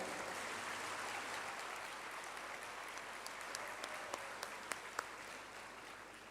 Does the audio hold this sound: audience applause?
yes